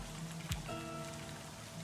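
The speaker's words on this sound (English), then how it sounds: "The raindrops fall on the paper, landing with soft patters." Steady rain falling in the video game Livber Smoke & Mirrors, a dense even hiss of drops on a surface, with a brief tap and a low sustained tone underneath, continuous and without speech.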